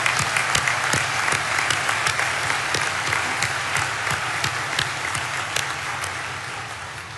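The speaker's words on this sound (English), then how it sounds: "Let's have a round of applause for all 4" A university commencement crowd applauds at Dakota State University, with dense, steady clapping from many hands that continues throughout. It is loud and close, with no speech over it.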